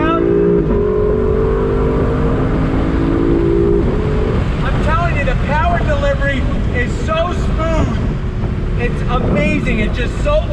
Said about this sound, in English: Here we go, on throttle. Yeah! Nice V8 sound.